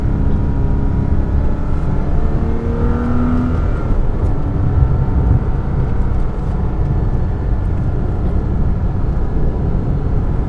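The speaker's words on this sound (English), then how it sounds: "the drive here in the 2006 Porsche Cayman S" A 2006 Porsche Cayman S (987) with a manual gearbox drives along, its engine droning steadily and loud from start to finish, with a brief rising rev partway through; no voices.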